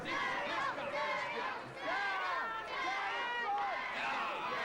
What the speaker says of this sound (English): Oh god, the crowd's going nuts.